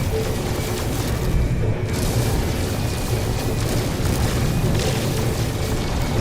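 A Sentinel freighter blows apart in No Man's Sky with loud, continuous rumbling booms and dense crackling blasts that run throughout without a break.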